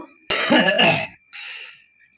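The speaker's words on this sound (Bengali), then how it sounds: "কাশি হচ্ছে আরে হেভি সর্দি লেগেছে তো" A person with a heavy cold coughs and clears their throat twice, a harsh close burst followed by a shorter, softer one.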